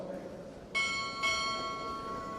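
Two ship's bell strikes ring out at a Navy Chief Petty Officer pinning ceremony at Recruit Training Command, two bright metallic clangs about half a second apart, each leaving a long shimmering ring over a quiet hall murmur.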